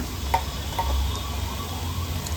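Pork pieces frying in a shallow layer of oil for Coorg-style chilli pork, a steady close sizzle with a few sharper pops and spatters, no voices.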